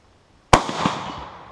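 A single sharp gunshot from an Austrian Steyr M95 infantry long rifle, loud and close, with a ringing outdoor echo trailing off for about a second.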